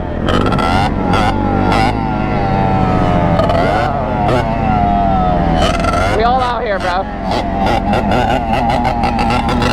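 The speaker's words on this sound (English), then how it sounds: "Bro, here comes the three-wheeler, bro." A two-stroke Yamaha Banshee three-wheeler engine at a dirt bike race, revving loud and close with harsh rising and falling pitch, while excited voices talk over it.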